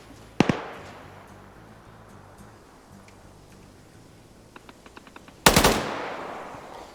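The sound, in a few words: gunfire in a military PvP video game match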